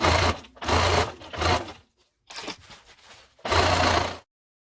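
A sewing machine stitches in several loud bursts, close up, hemming blackout drapery fabric, its rapid whirring rhythm stopping and starting with short pauses between runs.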